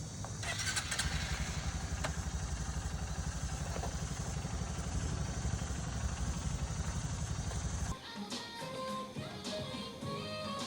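A motorbike ridden home in Bali, its engine a steady loud throbbing drone with rushing wind for most of the stretch, then quieter road noise after a sudden drop.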